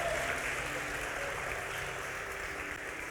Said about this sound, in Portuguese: Para aplaudir que a palavra é dele